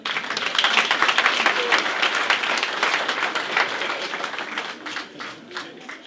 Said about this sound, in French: Les applaudissements pour le président d'honneur.